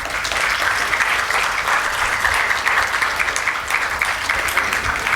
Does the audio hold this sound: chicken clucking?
no